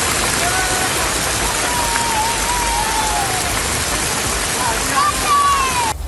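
Heavy rain, at times with hail, pours in the Kodaikanal hills as a dense, loud hiss throughout, with a narrator speaking over the downpour.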